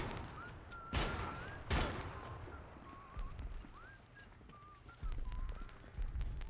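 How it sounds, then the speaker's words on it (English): Gunfire in a video game at a detention facility: two sharp, loud shots about a second apart, then a few quieter bangs near the end, with faint whistle-like electronic tones in between. "I'm shooting!"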